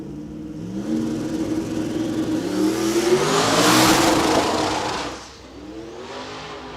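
A race car engine revs on the track, its pitch climbing in a rising, roaring sweep that swells loud and close, then drops off abruptly and settles lower.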